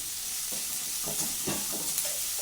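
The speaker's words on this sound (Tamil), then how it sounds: "இப்போ வெங்காயம் வதக்கிக்கலாம்" Onions sauté in a hot pan with a steady sizzling hiss, while a spoon stirs them in a few soft scraping strokes, close and continuous.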